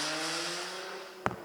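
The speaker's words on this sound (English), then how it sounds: "Is this the unregulated mufflers?" A car with a loud, unregulated muffler sends out a faint, sustained engine drone that slowly fades, heard from a distance, with a sharp click near the end.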